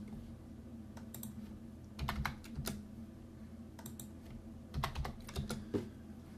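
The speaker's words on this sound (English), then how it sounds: "I'm just going to type in my parameters that I already have chosen earlier." Quiet, close clicking of keys on a computer keyboard as parameters are entered, coming in short irregular bursts of keystrokes separated by pauses, over a low steady room hum.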